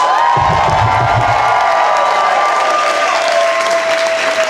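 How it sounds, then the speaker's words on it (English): A comedy show audience in New York cheers and applauds loudly as a vote for a comedian, with whoops and shouts over a sustained wash of clapping. "Make some noise if the person you want to advance is Natasha Bainblad."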